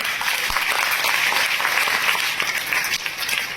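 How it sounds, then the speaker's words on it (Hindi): Loud, sustained applause from an audience at a success-training seminar, dense clapping filling the whole moment without pause. "अब तक की सबसे जोरदार ताली मेरे गुरुदेव के लिए"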